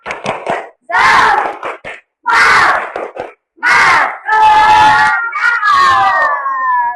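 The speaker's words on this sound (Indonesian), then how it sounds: "Ya, tepuk semangat." Students in a religious education class shout a spirit clap chant in unison, loud group cries alternating with bursts of rhythmic clapping and short pauses, ending in a sustained collective yell.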